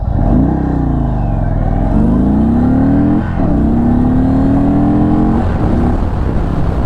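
A 2022 Indian Chief Darkhorse motorcycle accelerates hard from a standstill toward 60, its loud engine note climbing in pitch and dropping briefly at each of a few gear shifts, with no talking.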